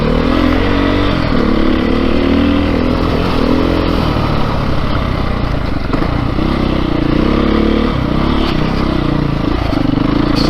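Beta 430 RR-S dirt bike engine running at low throttle, a loud, close, steady thumping idle-like drone with slight swells and rattling from the bike while crawling along on a warm day.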